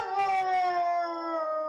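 A dog howls in long, drawn-out tones alongside piano playing, the howl rising and sliding steadily and sounding close and fairly loud with no talking over it.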